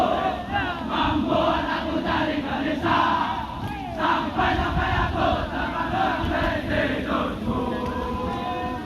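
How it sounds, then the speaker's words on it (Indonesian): Military trainees of an army air defence artillery training course chant yel-yel cheers in unison, a loud, continuous crowd of voices with rhythmic shouted phrases filling the whole stretch. "pertunjukan yel-yel mantan siswa Dikjerta Arhanud"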